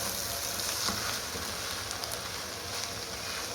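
Ground meat and onions frying in a pan, a steady close sizzle that crackles continuously without pause.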